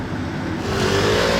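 Mercedes SLS convertible driving past on a Monaco street: an engine note swells and rises in pitch as the car approaches and passes, a loud broad rush with a climbing tone and no voices.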